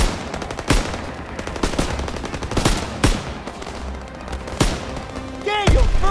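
Gunfire in Call of Duty WWII, a World War II shooter game: a burst of sharp, loud shots and machine-gun fire, with several distinct cracks spread across the stretch and a faint voice under the battle noise.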